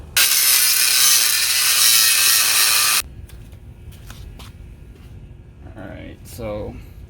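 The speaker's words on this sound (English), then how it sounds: "I'm gonna grind a little bit more." An angle grinder screams on metal for about three seconds during installation of a WARN Zeon 10 winch on a Toyota Tacoma, then cuts off, leaving clinks and handling noises as a person talks.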